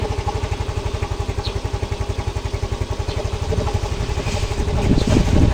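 A Yamaha Mio Soul i 125 scooter engine with no idle fires up, settling into a fast, even, close putter that grows louder and rougher toward the end as it revs.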